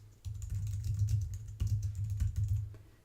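Quick, close keystrokes on a computer keyboard come in short bursts separated by brief pauses, with no voices.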